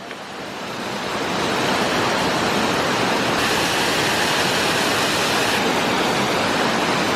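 A waterfall at Salt Springs State Park in Montrose, Pennsylvania gives off a loud, steady roar of rushing water that swells within the first second and then holds unbroken throughout.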